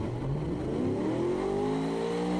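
A car engine in a video game revs high, holding a loud, steady roar as the pitch climbs through the gears, with no talking over it.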